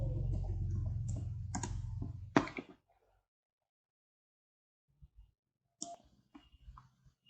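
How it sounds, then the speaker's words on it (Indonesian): Fingers type on a computer keyboard into a Google search box. A few scattered, faint clicks and taps come after a louder stretch of low rumble and brief clatter, with long quiet gaps between keystrokes. "Nah, kita bisa langsung aja ngetik stunting di sini."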